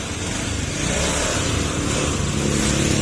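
A Honda Beat FI motorcycle that misfires when the engine is hot runs loud and close, its engine droning steadily and rising slightly toward the end as it revs, with no talk.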